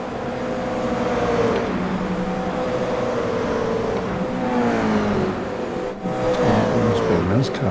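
Toyota GR86 race cars lapping the Adelaide Street Circuit in a racing video game, with continuous engine drone and shifting revs throughout, under steady commentary from people talking.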